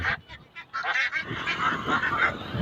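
Ducks at a lake duck farm honk and quack in a noisy, overlapping chorus that starts in short separate calls and thickens into continuous close calling.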